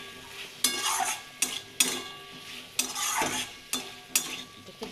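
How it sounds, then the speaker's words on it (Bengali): Banana flower curry with potato, Kashmiri chili and a little sugar being sautéed and stirred in a pan: a soft sizzle with repeated scraping strokes of a spoon, loud and close, no talking. "একটু ভালো করে কষিয়ে নেব।"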